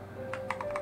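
A few quick keystrokes on a computer keyboard during a dual-boot Arch Linux install, ending with a press of the enter key, close and clear over a low steady hum.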